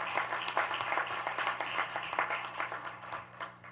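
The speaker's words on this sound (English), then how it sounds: "let's give all of our 8 area teams that made it to the state Final Four a big round of" Scattered applause from an audience honoring eight area teams that reached the state Final Four, a moderate ripple of claps over a low steady hum, fairly even throughout with no voices.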